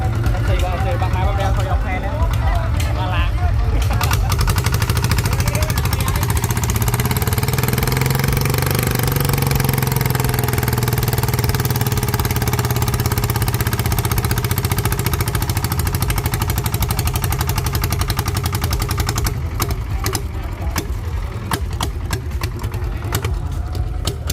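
Engines of Thai two-wheel e-taek tractors run in a contest, a loud, steady low chugging drone that holds throughout, with one engine note rising and falling mid-clip amid crowd noise.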